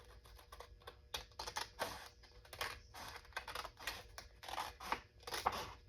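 Scissors snip through a sheet of 8½ x 11 paper while crafting pockets, a quick series of close, crisp cuts in an uneven rhythm, with no talk.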